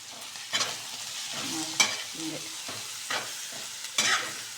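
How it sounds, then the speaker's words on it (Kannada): Turmeric powder fries in oil for lemon rice with a soft background sizzle, punctuated by several distinct scraping strokes of a spatula against the pan at irregular intervals. "ಅರಿಶಿನ ಪುಡಿ ಎಣ್ಣೆಯಲ್ಲಿ ಚೆನ್ನಾಗಿ ಫ್ರೈ ಆಗಬೇಕು"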